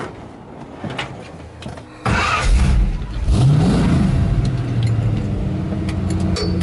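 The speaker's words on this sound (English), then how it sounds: "We're gonna hop in this thing and go for a quick little spin around the block." A 1974 Chevy C10 prerunner truck engine fires up loudly near the listener and holds a strong revving roar, with a rising note as it pulls away, no voices heard.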